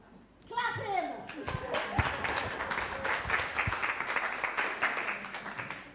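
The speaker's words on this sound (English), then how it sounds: "Clap him!" An audience at a symposium applauds an honoree receiving an award, a dense, sustained patter of clapping that starts abruptly and carries on with voices, including children's, mixed in.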